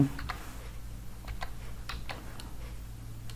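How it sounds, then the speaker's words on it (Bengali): Light clicks of a computer keyboard as a search is typed into a browser search bar, a handful of soft separate taps over a low steady hum. "এখানে সার্চ বারে লিখব গুগল"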